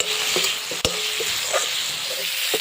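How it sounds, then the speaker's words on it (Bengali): Potatoes that were fried earlier are sautéed with spice masala in a pan for a Bengali cabbage dhoka dalna, giving a steady sizzle broken by a few spoon scrapes and knocks against the pan. "এবার ভেজে রাখা আলুগুলো দিয়ে দিলাম এবার আলু দিয়ে একটু কষাবো"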